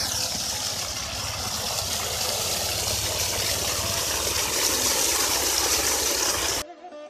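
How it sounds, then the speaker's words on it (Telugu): Borewell water gushes and gurgles steadily outdoors near hills and greenery, a continuous broadband rush that holds level for about six and a half seconds before cutting off abruptly. "వినారా ఆ వాటర్ గలగలలు ఎంత బాగున్నాయో"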